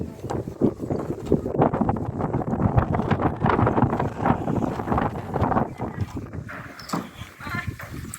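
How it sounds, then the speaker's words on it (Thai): Gusty wind buffets the microphone outdoors at the Phimai stone temple, a rumbling, roaring rush that rises and falls throughout, with people talking underneath. "ลมเย็นมากเลย"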